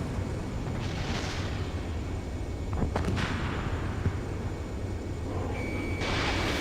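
Missile launch in the flight combat game Ace Combat 7, a brief whooshing burst around mid-clip over a constant loud jet engine roar, with beeping tones near the end.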